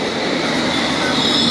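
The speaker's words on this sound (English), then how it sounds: "the first train that's just made an appearance is going to be a district line service to Wimbledon" A London Underground District line train rolls into Fulham Broadway station late at night, a loud, steady rumble of wheels with a high squealing edge, heard close up.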